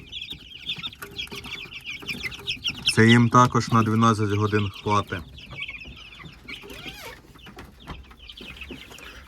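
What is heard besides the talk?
chicks clucking at a full feeder in a brooder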